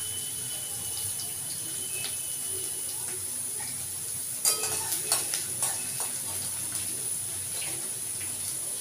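Onion fries in oil in a pan with a steady low sizzle, broken midway by a run of close utensil clinks and stirring knocks.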